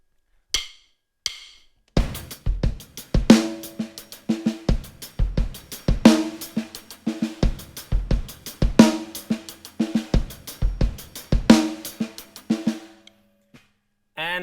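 A steady, percussive rhythmic pattern repeats in quick, even notes, plucked and punchy, with short pauses at the start and end.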